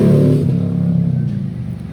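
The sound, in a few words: loud motorcycle exhaust during Biketoberfest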